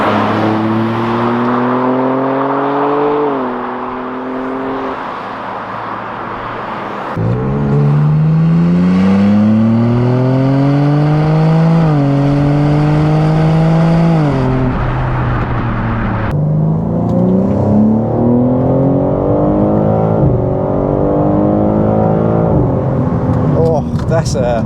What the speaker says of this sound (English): that said GoPro is currently filming the exhaust noises